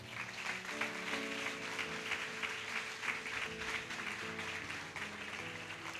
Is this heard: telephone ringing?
no